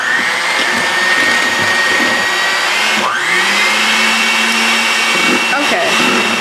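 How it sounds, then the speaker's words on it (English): An electric hand mixer runs steadily and loudly, beating gingerbread cheesecake batter. Its whine shifts in pitch as the beaters move through the bowl. "Now we're going to use our hand mixer and beat this until it's light and fluffy."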